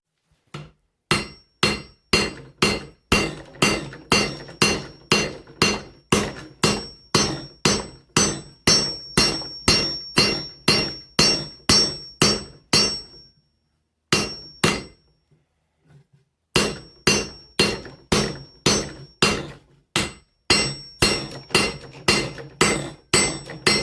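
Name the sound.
hammer forging an axe on an anvil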